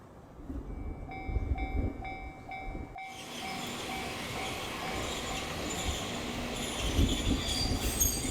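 A retro-looking electric train on a small Japanese railway line, with steady rolling rumble and high wheel-squeal tones that swell into a louder, denser roar midway, with no voices.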